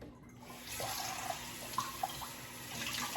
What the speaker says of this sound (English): And we're gonna rinse it.